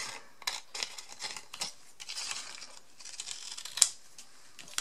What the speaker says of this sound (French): Alors je vais en couper un bout.